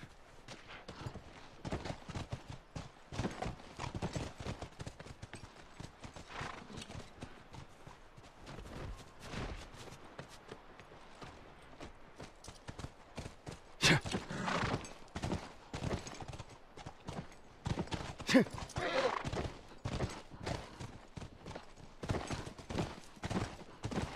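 Horses from The Last of Us clop along in an uneven walking rhythm, hooves thudding close by with scattered sharper knocks and no talk.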